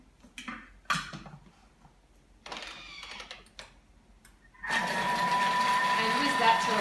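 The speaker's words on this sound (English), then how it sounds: "And whisk that till it's nice and combined." A kitchen appliance whisks a sugar-free salted caramel slice mixture with a pinch of Himalayan pink salt, starting after some quieter clatter and talk and running loud and steady for the last two seconds.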